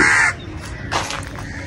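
Crows cawing in the city in the morning, heard from a rooftop: a loud close caw at the start, then a fainter second caw after a short pause, over light background noise.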